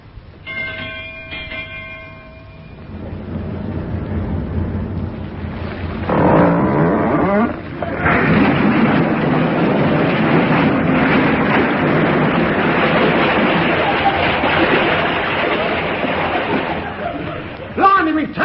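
Ship engines surging to full ahead in a radio comedy, a bell ringing first, then a loud, steady mechanical roar and rumble that holds for several seconds under a few spoken lines before a final clatter.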